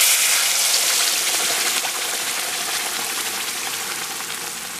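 Ground masala sautéed in hot oil in a village kitchen hisses and sizzles in a dense, continuous crackle, loud and close, with no talk over it.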